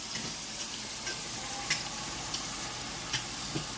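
Sweet potato and callaloo being stirred in a pan, with a soft, steady sizzle and scraping throughout and a few faint clicks of the utensil against the pan.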